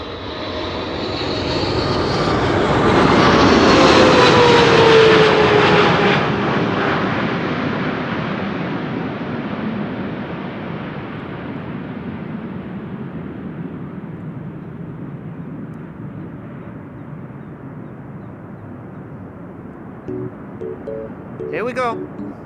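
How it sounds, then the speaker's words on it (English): Emirates SkyCargo cargo plane arriving at Amsterdam Schiphol Airport: loud jet engine roar swelling as the aircraft passes close by, with a descending whine, then fading slowly into a distant rumble. "Emirates Sky Cargo arriving from Aguadilla up next."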